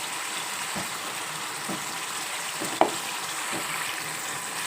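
Potato curry frying in a pan with chili powder being stirred in, giving a steady close sizzle with a few soft scraping stirs and one sharp clink partway through.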